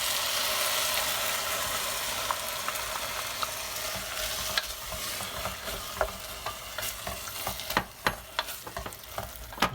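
Crushed peeled tomato hits onions frying in a pan and is stirred, a steady broadband sizzle with a run of sharp spoon scrapes and clicks that grow more frequent toward the end, close and with no talk.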